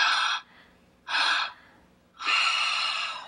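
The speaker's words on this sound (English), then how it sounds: "Two inhales, and then we exhale" A slow breathing exercise: a person inhales twice in short, audible breaths, then lets out one longer exhale, each breath clear and close in a quiet room.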